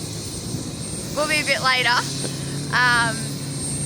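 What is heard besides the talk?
helicopter running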